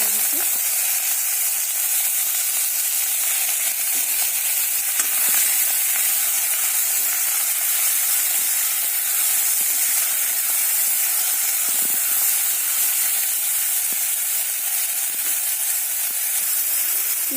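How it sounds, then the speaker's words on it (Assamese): Piyali paleng spinach greens frying in hot mustard oil with fenugreek seeds, a steady close sizzle and hiss holding evenly loud with no break. "পিয়ালি পালেংখিনি ভালকৈ ভাজি ল'ব লাগিব"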